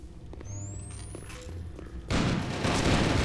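Airstrike explosions in the Warzone video game, a sudden heavy burst of booming blasts that drowns the quieter game sounds and a whistling tone before it; a voice talks faintly in the earlier part.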